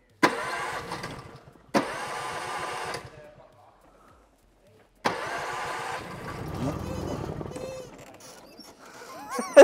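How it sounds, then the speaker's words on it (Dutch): BMW M3 F80 engine repeatedly cranking without starting: three separate bursts of starter whirring, close and fairly loud, with a pause between, and a voice briefly speaking near the end. "Deze wil niet eens starten."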